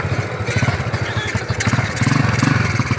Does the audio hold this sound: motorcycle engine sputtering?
yes